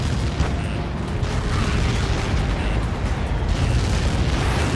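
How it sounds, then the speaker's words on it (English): Massive Helios projectile impact explosion in the flight combat game Ace Combat 7: Skies Unknown, a loud, sustained rumbling blast roar that fills the whole stretch without letup. "How many got caught in that explosion?"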